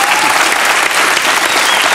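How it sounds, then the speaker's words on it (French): A television game-show studio audience applauding, dense and loud, steady clapping filling the whole moment at close range. "on applaudit Baffy, Laurent Baffy."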